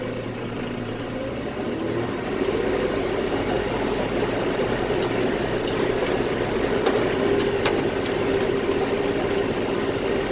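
A Mahindra 6075 four-wheel-drive tractor fitted with a grapple for moving firewood runs with a loud, steady diesel drone that swells slightly after the first couple of seconds, heard close from the seat with no talking.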